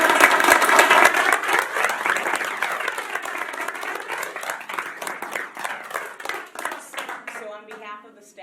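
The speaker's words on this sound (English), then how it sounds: "please join me in a warm round of applause for these students" Audience at a Novi High School board of education meeting applauds students, a loud, dense burst of clapping that slowly thins and fades toward the end.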